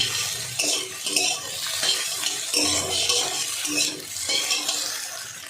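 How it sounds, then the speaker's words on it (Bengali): Eggs frying in a pan for an egg bhujia curry, stirred lightly until reddish: continuous scraping and clinking of a utensil on the pan over a steady sizzle, fairly loud and close. "একটু লাল করে ভাজবো, খুব কড়া না, মোটামুটি।"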